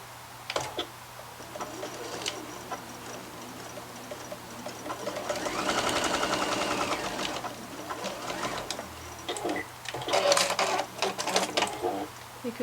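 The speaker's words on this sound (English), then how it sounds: "You can just do a little bit of back stitch at the start and finish of the seam just to make that strong." A domestic sewing machine runs in steady bursts while stitching the seam of a cloth face mask, its motor whirring at moderate volume with brief pauses between runs and faint background noise.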